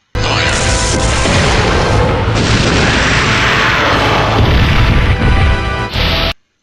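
A huge, sustained roaring blast of a rail cannon in the video game Resident Evil 3, with rumbling low end, loud and continuous for several seconds before cutting off abruptly.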